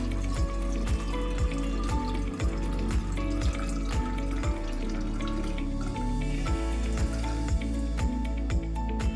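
Water is poured in a steady stream onto chia seeds and psyllium husk in a kitchen, a continuous liquid splash set against rhythmic background music.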